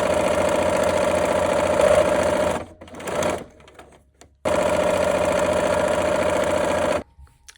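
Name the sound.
sewing machine sewing quilt rows together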